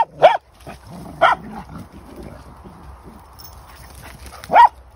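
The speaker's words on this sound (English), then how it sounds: "Molly, stop barking!" A dog barks sharply three times, two quick barks early on and one after a pause, with quieter rustling and faint whimpering between.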